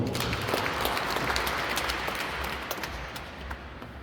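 An audience at a parish youth gathering claps together in a dense, sustained round of applause that fades slightly toward the end, with no voices over it.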